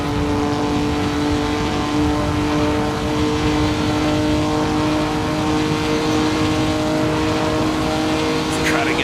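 An F3 race car in Assetto Corsa holds a steady, loud engine drone at full throttle on the Sudschleife circuit, flat out in a high gear. The pitch barely changes across the run.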